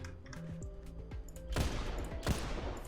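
Hip-fire body shots from The Last Word in a video game land in a quick string of sharp cracks, then two louder bursts close together, loud and near with no talk.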